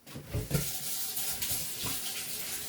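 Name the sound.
rinsing canning equipment under running tap water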